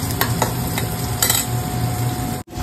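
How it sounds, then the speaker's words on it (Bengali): Fish and onions fry together in a pan, a steady loud sizzle broken by scraping stirs of a utensil and a brief dip near the end, with no voices. "এই মাছটা ভাজা হচ্ছে আর এখানে পেঁয়াজটা ভেজে নিচ্ছি"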